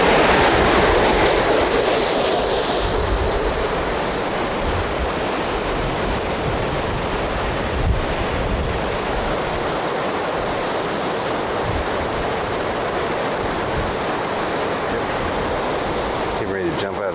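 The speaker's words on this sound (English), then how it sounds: "It's real windy." Strong gusting wind roars loudly and continuously against the microphone high up in a tree, a dense rushing noise that barely lets up.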